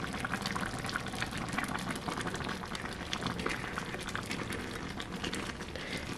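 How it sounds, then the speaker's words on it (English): Lentil soup simmering in a Dash mini rice cooker, a steady close bubbling and hissing with fine crackling pops that continue evenly throughout. "And the soup is simmering really nicely."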